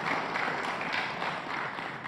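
A crowd at a PDI Perjuangan party event applauds the party chairwoman, a continuous, fairly faint patter of many hands clapping at some distance with no voices on top.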